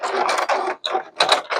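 A sewing machine stitches quilt binding strips together, running in short mechanical bursts with a brief pause midway, fairly close and without talk.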